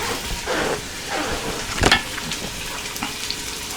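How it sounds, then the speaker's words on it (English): Pork tenderloin browning in an Instant Pot pressure cooker gives a close, crackly sizzle with uneven bursts and one louder spike in the middle, and no voices. "That's how we brown in a pressure cooker."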